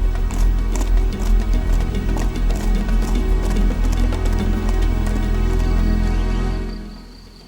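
Indian wild asses galloping across the hot desert of the Little Rann in India, a dense rumbling drum of many hooves, loud and continuous before fading out over the last second.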